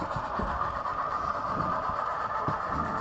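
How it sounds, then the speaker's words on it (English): A model train layout with an Action Red locomotive pulling freight and peanut butter hopper cars runs with a steady rolling rumble and faint clicking of wheels over track joints, close and continuous. "I've been wanting to run my Action Red locomotive and freight and the peanut butter hoppers there for a while"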